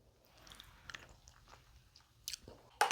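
Someone chews a bite of wedge salad up close, with soft wet mouth sounds building to a few louder crisp crunches near the end.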